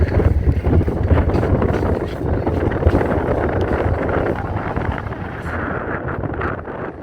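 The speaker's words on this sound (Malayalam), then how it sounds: "നല്ല കാറ്റുണ്ട്." Strong outdoor wind buffets the microphone with a loud, continuous low rumble and gusty roar, easing a little toward the end, with no talk heard.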